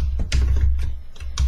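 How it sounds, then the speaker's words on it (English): Computer keyboard typing comes as a quick burst of several close, crisp key taps at an uneven rhythm, with no talking. "My typing skills have been terrible today."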